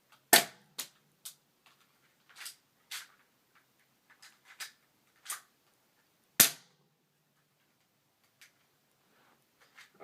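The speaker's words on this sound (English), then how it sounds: "I accidentally loaded 2 bullets into the gun at one time." Sharp cracks of a CO2 BB gun fired repeatedly into a catcher, a dozen or so snappy shots at uneven intervals, one louder pop midway, with quiet gaps between.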